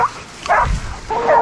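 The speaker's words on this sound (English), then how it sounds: "the air in the field was still buzzing with the echoes of the hunting dogs" Hunting dogs bark during a wild boar hunt in an open field, with a few loud, close yelping barks in quick succession.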